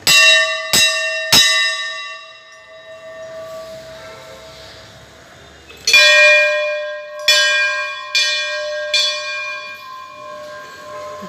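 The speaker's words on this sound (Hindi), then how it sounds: "देखो अब अंदर जाएंगे जहाँ पे बहुत सारी घंटियाँ लगी हुई हैं" Many temple bells ring out: bright metallic strikes with long ringing decays, a few quick hits at first, then a quieter lull, then more clangs spaced a second or so apart, close and loud with no talk.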